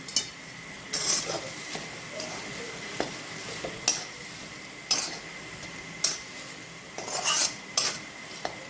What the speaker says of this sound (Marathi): कोथिंबीर टाकल्यानंतर मिक्स करून घ्यायचे आपल्याला।